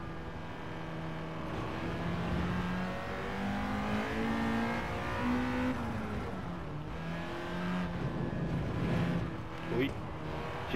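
A Honda Integra Type R DC2 engine in Gran Turismo 7 on the Nordschleife drones steadily, its revs rising and falling through gear changes, loud and continuous with no talk over it.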